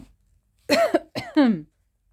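Two harsh coughs in quick succession, close and loud, after a near-silent pause.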